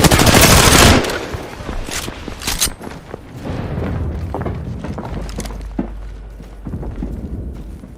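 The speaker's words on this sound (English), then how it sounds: "Getting shot at." Enemy gunfire in the video game Apex Legends: a loud, dense burst of rapid shots up front, then scattered bangs, thuds and footstep-like knocks over a low rumble, with no voices.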